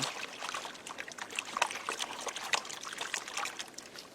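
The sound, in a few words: water sloshing in gold pan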